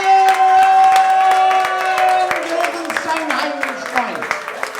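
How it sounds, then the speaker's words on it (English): An open mic night crowd cheers for a performer named Christian, with a long, piercing sustained whistle over shouting, clapping and excited voices, fading toward the end. "whistle, shout, cheer for Christian"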